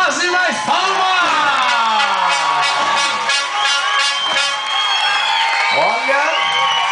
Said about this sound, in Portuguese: Palmas e mais palmas!